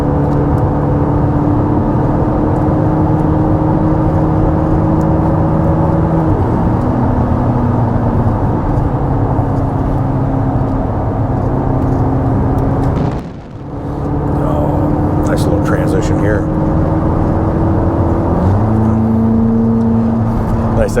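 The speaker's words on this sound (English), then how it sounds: "I hear it shifting, but I don't even feel it shifting." Engine drone of a 2026 Corvette ZR1 heard from inside the cabin, pulling steadily under hard acceleration, its pitch dropping with smooth gear shifts around the middle and near the end, continuous and fairly loud.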